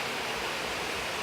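Cachoeira do Rio do Ouro, a waterfall in Brazil, gives a steady, dense rush of falling water with an even, continuous hiss and no breaks.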